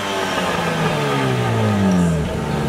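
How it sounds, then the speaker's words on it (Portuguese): A Chevrolet Prisma 1.0 or 1.4 with its original exhaust and stock intake revs in place, the engine note climbing in a long steady rise and then dropping back, loud and close. "esse ronco aí é o ronco original do carro"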